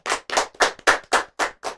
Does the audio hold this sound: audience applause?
yes